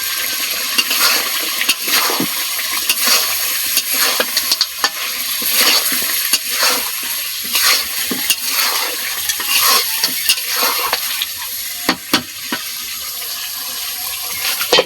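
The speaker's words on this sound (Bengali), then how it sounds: "মাংসটা কষতে থাকুক" Duck meat sizzles and fries in a wok, loud and close, with repeated scraping stirs and clanks of the spatula breaking up a continuous hiss.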